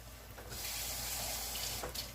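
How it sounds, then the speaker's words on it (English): Tap water runs steadily into a cooking pot on a kitchen sink, preparing a Puerto Rican style chili rice and beans dish, a continuous close splashing rush with a brief quieter moment near the end and no talking. "Put a little bit of water in this."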